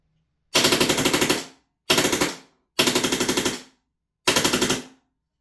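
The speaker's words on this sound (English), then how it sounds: "Can we do a rate of fire test? This chrono doesn't always like it with gas blowbacks." A Lambda Defence B&T GHM9-G gas blowback airsoft gun fires four rapid bursts during a rate of fire test, each a loud, fast rattling string of shots separated by short pauses.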